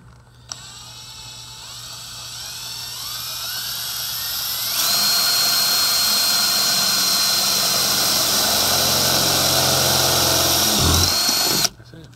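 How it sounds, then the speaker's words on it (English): A power drill bores through metal while a huge 5 ft car wing is mounted, whining steadily and rising in pitch partway through, then cutting off sharply near the end. No one speaks over it. "that's where we take a little drill bit and go through that"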